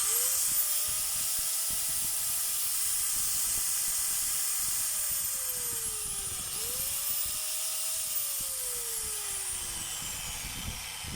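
A DeWalt DWE8200S 4-inch angle grinder running free on test: a steady high whine with a loud hissing wash, its pitch sagging and climbing back in a few slow swells as it spins down and up again.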